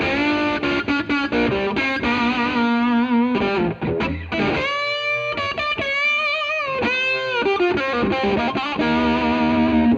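Heavily distorted electric guitar through a BOSS DS-1 pedal turned up to about 1 to 2 o'clock, riffing and bending notes with thick, aggressive high-gain tone and long sustain, loud and continuous.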